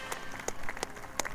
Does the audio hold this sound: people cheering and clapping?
yes